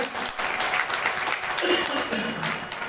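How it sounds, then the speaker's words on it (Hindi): Loud, steady applause from an audience at a live Shrimad Bhagwat Katha religious discourse, the clapping unbroken and close throughout. "जोरदार ताली बजाइए मेरे ठाकुर को"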